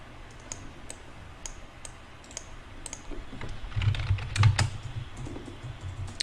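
Keys clack on a computer keyboard in quiet, uneven bursts, soft individual taps with a denser flurry midway, faint and close with no voices.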